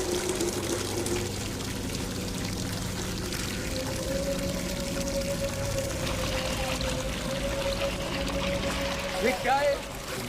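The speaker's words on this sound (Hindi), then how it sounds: "देख कैसा पानी आ रहा है।" Water gushes steadily from a hand pump into a bucket, a continuous pouring splash that runs the whole time while people talk nearby.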